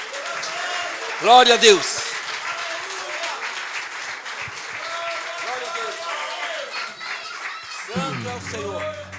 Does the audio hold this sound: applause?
yes